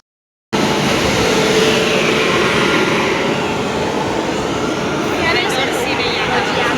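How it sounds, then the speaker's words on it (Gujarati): A train rolls into a station with a loud, continuous rumble and roar that starts abruptly and holds steady, a few faint higher tones near the end and no talk heard. "આમાં ગાઈસ મસ્ત ટ્રેન આવી ગઈ છે."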